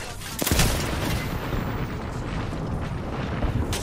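Gunfire in the battle royale game Apex Legends from a new weapon fired by an enemy on a rooftop, a dense roar of shots and blasts that carries on steadily for several seconds with a loud burst near the start.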